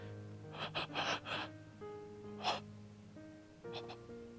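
A voice imitates labored breathing in a horror tabletop role-play session, with a few ragged, gasping breaths in quick succession, a pause, then another strained gasp, quiet and close over a faint background music hum.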